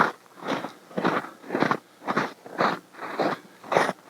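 Footsteps crunch through frozen, crusty snow that had partly melted and refrozen, about eight steady rhythmic crunches roughly half a second apart, close and distinct with no voices.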